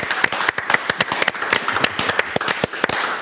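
Audience applause at a master class on forensic genetics in Argentina, a dense, steady burst of many hands clapping with no voices over it.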